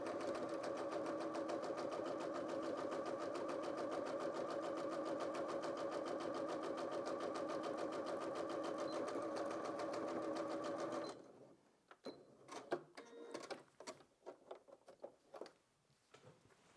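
A Janome DKS30 sewing machine stitching a neat seam runs steadily for about eleven seconds, a fast even whir close by, then stops, leaving a few light clicks and handling sounds.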